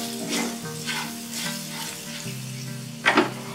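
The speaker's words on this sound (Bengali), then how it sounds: "একটু মশলাটা একটু তেলের মধ্যে হালকা নাড়াচাড়া করে নিচ্ছি।" Red chili powder and spices fry in oil in a pan for Bengali aloo posto while being stirred, a close, continuous sizzle broken by repeated scraping strokes and a brief utensil clink near the end.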